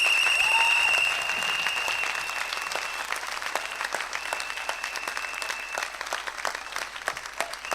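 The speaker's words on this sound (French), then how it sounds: "Je voudrais que ces jeunes vous applaudissent pour vous dire leur contentement aujourd'hui." Young people at a World Youth Day 2025 gathering in Keur Massar applaud together, a steady, moderately distant wash of clapping that carries on throughout with a faint tonal whistle early on.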